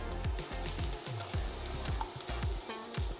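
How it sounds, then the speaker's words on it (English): Garlic and ginger sauté in olive oil in a pan, a close, steady sizzle broken by quick repeated stirring scrapes in a busy rhythm, with no voices. "Let's saute our garlic until it's quite golden brown."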